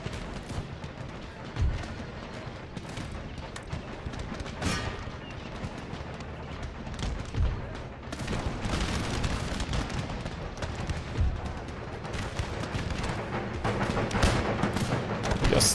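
Musket volleys and artillery fire in a Napoleonic-era battle of Empire: Total War, with dense rolling gunfire, scattered booms and heavy crackling volleys that swell louder toward the end, with no talk.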